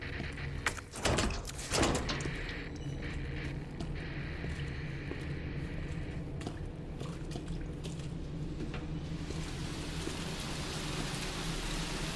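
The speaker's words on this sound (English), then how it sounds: "rain pouring down outside" Rain pours down steadily in the video game Resident Evil 2, with scattered drips and splashes, a few louder knocks early on, and the downpour swelling toward the end.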